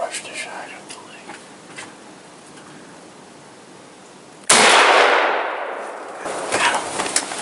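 A single loud, close rifle shot fired at a wild boar during a heavy snowstorm, its sharp crack followed by a long fading roll, after soft whispered talk against wind noise.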